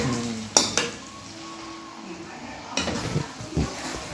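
A spoon scrapes and clanks against a large cooking pot while noodles are stirred through spices, in a few close, uneven bursts of metal knocking with a soft sizzle in between; a voice speaks briefly.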